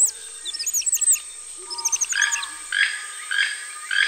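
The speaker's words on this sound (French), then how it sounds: "Vous entendez ? C'est le toucan, avec son beau bec surdimensionné et très coloré." A toucan calling in a tropical forest setting, a series of bright, repeated chirping and croaking notes, close and clear, with no talk over them.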